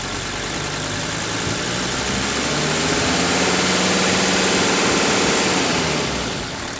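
A diesel engine idles smoothly and steadily, a continuous close rumble that swells slightly midway with no speech over it.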